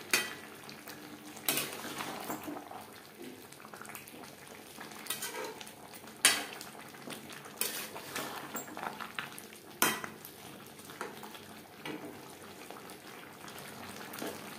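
Chicken and boiled potatoes stirred together in a hot pan for an alu chicken curry, with a steady sizzle and repeated scraping clinks of a utensil against the metal, sharper knocks every couple of seconds.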